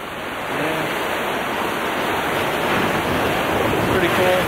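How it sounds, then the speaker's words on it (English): Big Pacific Ocean waves break against large pointed rocks on the Oregon coast, a loud, continuous surf roar that swells slightly, with no talking. "Really big waves."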